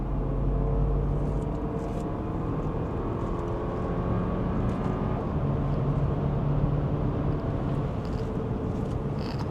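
A 2018 Porsche Macan 2.0 T, 252 hp, heard from inside while driving in seventh gear, a steady low engine and road rumble holding even throughout.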